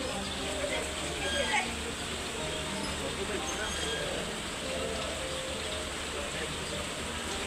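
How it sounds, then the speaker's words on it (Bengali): Heavy rain falls steadily outdoors, a dense, even wash of hiss and patter that holds at a constant level throughout with no breaks. "প্রচন্ড বৃষ্টি পড়তেছে"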